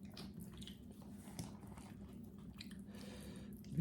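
Close-up wet chewing and eating of rice mixed with sambar, a steady squishy, smacking mastication running throughout with a louder bite near the end, no talking.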